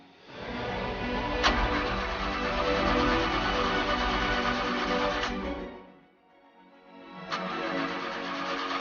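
A car engine cranks over and over without catching, a long, steady grinding whir that stops briefly before a second attempt begins, heard up close with no talking.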